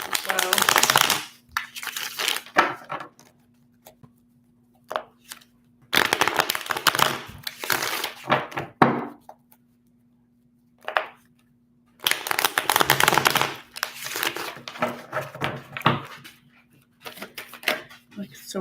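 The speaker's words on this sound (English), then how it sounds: "Just going to go ahead and free pull some cards." Tarot and oracle cards are shuffled and pulled in three separate bursts of dense, crisp riffling and flicking. Quiet pauses fall between the bursts, and a steady low hum runs underneath.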